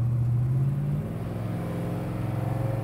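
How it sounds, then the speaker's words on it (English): A 1970 Plymouth Road Runner rumbles with a deep, loud exhaust note while driving through a subdivision, a steady low throb that drops in pitch as it shifts gears. "listen to that awesome exhaust system again"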